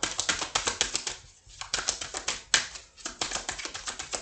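Tarot cards are shuffled and flicked out one after another in a quick run of crisp, papery snaps and taps, close and clear, with two short pauses and no talk.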